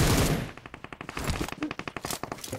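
Rapid bursts of automatic gunfire from a zombie shooter video game, with a sharp close shot opening a quick run of evenly spaced rattling shots and no talking.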